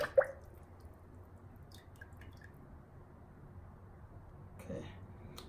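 Sodium silicate glaze poured out of a ceramic tea bowl, giving a soft liquid splash at the start and a brief trickling drip near the end, with faint quiet background between.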